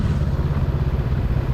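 A Honda Rebel motorcycle engine runs steadily at idle after the bike has been dropped off a trail, a close, loud low-pitched putter with no talking.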